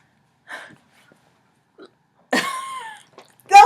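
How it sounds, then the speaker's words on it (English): A single loud, throaty burp between short quiet gaps, with faint small sounds before it and another sharp vocal noise at the very end. "No, you just burped."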